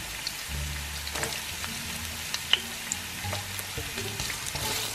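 Onion and ginger sauté in a hot pan, giving a quiet, steady sizzle with scattered crackles and soft spatula scrapes, close and alone without any talk.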